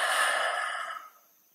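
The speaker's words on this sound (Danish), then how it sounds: "Og pust ud gennem munden." One long, breathy exhale through the mouth during a gentle yoga session, close and soft, fading out after about a second.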